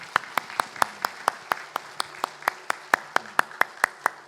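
A church congregation at a Sunday service claps in welcome for a speaker giving a baptism testimony, sounding as a slow, regular series of sharp, distinct claps, fairly close, over a soft background hum.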